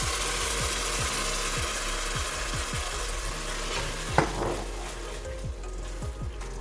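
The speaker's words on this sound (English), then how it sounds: "And now we are adding the stock." Stock poured into a pot of cooking chicken feet sets off a steady loud sizzle and bubbling, with repeated soft clicks and stirring and one sharper knock partway through.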